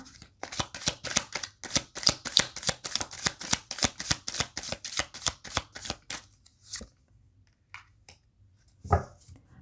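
A tarot deck is shuffled in a quick, regular run of riffling snaps for about six seconds, close and crisp, then a few scattered card taps before a soft thump.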